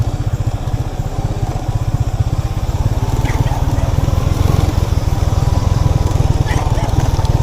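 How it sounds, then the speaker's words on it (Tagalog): Motorcycle engine braking on a road, a steady close rumbling engine pulse with a rapid low throb throughout, loud and continuous with faint background noise. "Engine brake, engine brake."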